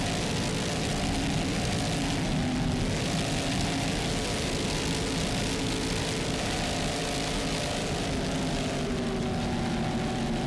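A 40-foot Fountain racing powerboat with twin 800-horsepower Mercury inboard engines, a constant loud, dense engine roar heard up close without letup.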